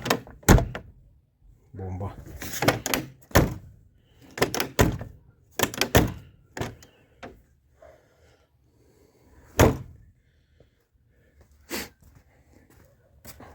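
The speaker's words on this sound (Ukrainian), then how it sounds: "Ну, двері закриваються" A car door on a VAZ 2101 or Peugeot 306 is shut, giving several sharp thunks scattered among nearby speech, with someone talking throughout.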